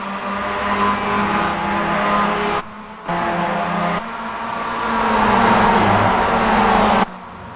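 Mazda race cars battle in a close pack at Watkins Glen International, engines droning loud and steady with rising revs, cutting out abruptly twice as the cars sweep past.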